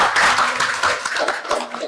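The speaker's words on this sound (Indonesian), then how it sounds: "beri tepuk tangannya semuanya" An audience at an umrah pilgrimage preparation gathering claps hands in a short, uneven burst of close, lively claps lasting under two seconds.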